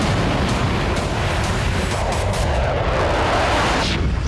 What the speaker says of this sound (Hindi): रूसी सेना ने यूक्रेन में उत्तर से लेकर पूरब और दक्षिण तक बारूदी वर्षा की।